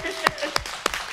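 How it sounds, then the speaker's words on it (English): Audience applause, a few sharp claps standing out at a steady rhythm over a softer wash, fairly close. "And round of applause, ladies and gentlemen."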